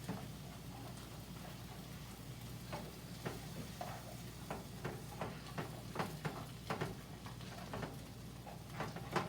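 Onions sautéing in a pan for chicken bacon mac and cheese give a steady, close sizzle, broken by a series of sharp scraping and tapping strokes as they are stirred, growing busier toward the end, with no talking.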